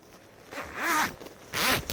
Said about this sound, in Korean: 나늘 느끼는 건데 나 지퍼를 잘못 잠그는 것 같아.